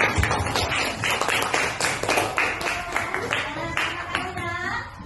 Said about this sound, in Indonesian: Coba tepuk tangan semangat lagi.